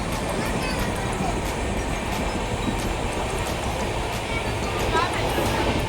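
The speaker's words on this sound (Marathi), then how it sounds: "आमची गाडी आली आणि कोकणकन्या ट्रेनवाली चालली." The Konkan Kanya Express passenger train rumbles past at a station with a steady, loud roar and faint rhythmic clacking of wagons, while people talk nearby.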